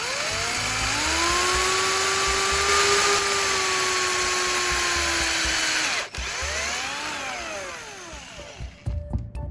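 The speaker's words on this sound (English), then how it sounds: "Drill a small hole in the damaged area of the slipper" A power drill whines steadily for several seconds, its pitch rising and holding, then stops and briefly spins down and up again, close and loud, drilling a small rivet hole in a damaged slipper.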